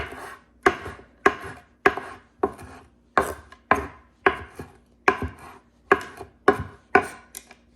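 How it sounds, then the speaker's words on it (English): A knife chops fresh dill on a cutting board in sharp, evenly paced strokes, roughly a dozen crisp close-up thuds with short pauses between them, and no voices. "We're just gonna chop this all up real quick."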